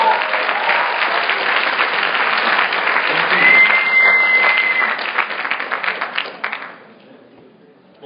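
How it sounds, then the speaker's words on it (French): Audience applause after a startup pitch at the Startup Weekend Lausanne 2012 final pitches: a room full of sustained, dense clapping that holds steady for several seconds, then thins out and fades away. "Vous pouvez le applaudir."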